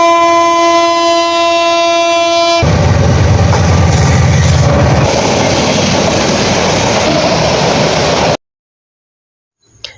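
A train at Narsingdi railway station in Bangladesh opens with a loud, sustained horn blast. A rumbling roar of rail cars rolling past follows and continues until it cuts off into near silence, ending with a faint knock.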